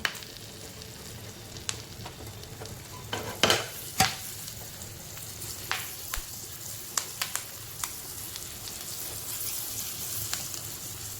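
Oil sizzles softly in a pan while a spoon stirs and scrapes chilies being tempered, now and then, with a few light metallic clinks.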